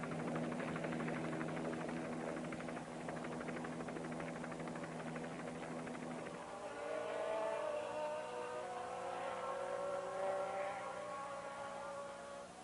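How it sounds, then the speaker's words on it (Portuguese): McLaren Formula 1 car with a Porsche engine at the Brazilian Grand Prix, a loud, high engine whine sustained throughout with a pitch change midway, with no talk. "A McLaren, motor Porsche, e Alain Prost."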